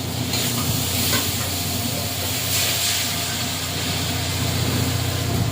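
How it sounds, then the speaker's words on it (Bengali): Water hits a hot pan of fried spices (turmeric, cumin, coriander powder) for a Bengali fish curry, giving a loud, steady hiss and sizzle that holds evenly throughout with no talk. "কষানো হয়ে গেছে, এবারে জল দিয়ে দেবো।"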